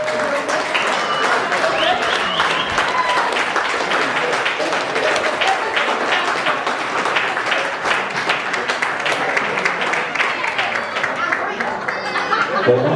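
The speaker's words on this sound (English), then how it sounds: "Let's have a round of applause for Rick." Sustained applause from wedding guests after Rick's toast, dense steady clapping throughout with light chuckles and scattered voices mixed in, close and loud.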